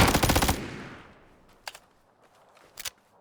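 Gunfire from a weapon in the shooter game PUBG: a rapid automatic burst up front that fades into a decaying echo, followed by two brief distant shots.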